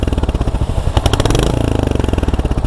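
A Royal Enfield Hunter 350 sits idling in neutral, its exhaust giving a loud, close, steady thumping beat with a brief blip of revs partway through, no voices over it.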